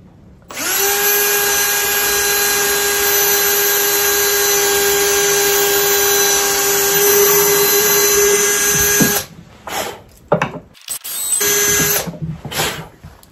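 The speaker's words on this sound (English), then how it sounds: "So we're going to probably drill a pilot hole," A power drill whines steadily and loud for about nine seconds while boring a pilot hole for screws in wood for a boot dryer box, then stops and gives a few short bursts of rattling handling noise.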